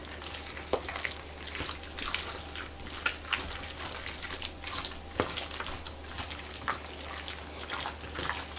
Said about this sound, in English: And then stir that in.